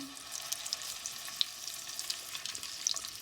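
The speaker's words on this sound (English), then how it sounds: "So we're going to drop these down, and once they go in," Scallops sear in a hot pan of butter and oil, giving a steady close sizzle and frying crackle with small pops throughout, with no voices.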